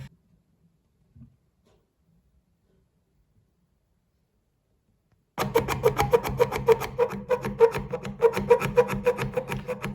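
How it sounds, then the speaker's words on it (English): A chisel is rotated against the valve seat of a kitchen mixer tap to reseat it, a rhythmic metallic rasping and grinding that starts after a long silence and carries on steadily, close up, with no talking. "I'm slowly rotating the chisel and try to keep it nice and flat on that seating."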